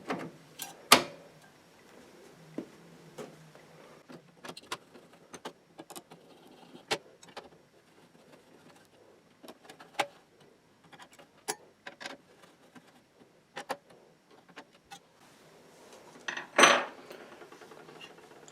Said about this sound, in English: So I will now be installing the heatsink back onto the CPU.